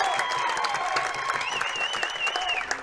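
A crowd applauds at a men's singles pro pickleball match, dense continuous clapping with some cheering, steady and fairly loud for the whole moment.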